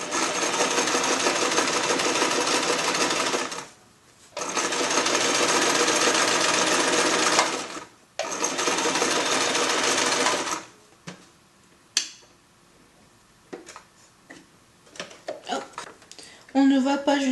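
Sewing machine fitted with a hemmer foot runs in two long loud stitching bursts with a short pause between, then stops, followed by fabric handling and a voice talking.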